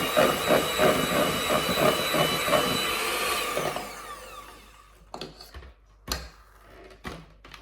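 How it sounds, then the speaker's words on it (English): Electric mixer whirring as it whisks icing for a gluten-free birthday cake, a loud steady whine for several seconds before cutting off, followed by a few short bursts and clattering knocks. "Just keep giving it a whisk after each"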